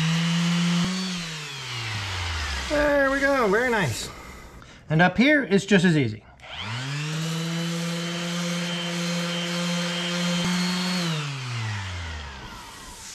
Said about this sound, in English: And so I start with the power sander and I'll finish this up with some hand sanding.